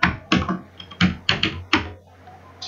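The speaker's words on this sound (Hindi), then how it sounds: "पासवर्ड आपको टाइप करना है" Keys clack on a computer keyboard as a password is entered, a handful of sharp taps in short uneven bursts with brief pauses between, close and fairly clear against a quiet room.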